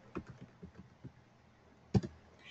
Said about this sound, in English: students will simply just type in their username